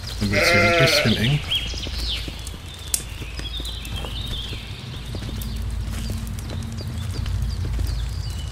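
A goat in the video game Force of Nature gives a loud bleat at the start, followed by quieter game ambience and soft hoof-like clopping.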